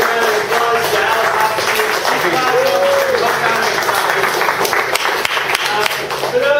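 Clapping from a conference audience after a big data talk, a moderate round of applause that mixes with crowd murmur and some voices, fairly even in level across the stretch.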